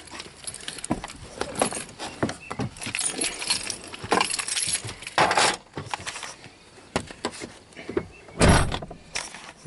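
A person climbs into a truck: keys jangle and a door clunks amid scattered thumps and rustles, several sharp bursts over about ten seconds, close and with no talk.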